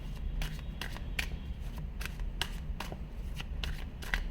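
A deck of tarot cards is shuffled repeatedly, giving a steady run of crisp, close papery riffles and snaps at a quick, even rhythm, with no talk.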